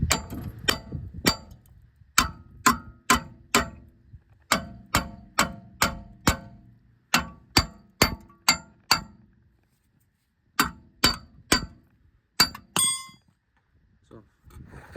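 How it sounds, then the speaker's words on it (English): Sharp metallic clanks ring out in quick bursts of two or three, pausing briefly between groups, close and loud, as a hammer strikes the front wheel hub of an F56 Mini Cooper D. "So now we can give this a few little taps."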